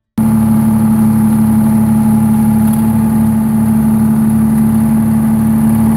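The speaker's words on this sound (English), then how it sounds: "Known as the Screamin' Jimmy, this engine didn't just run, it roared." A Detroit Diesel 8V71 two-stroke V8 diesel with a roots blower runs steadily and loudly, a strong low droning hum with a high whine on top, alone without voices.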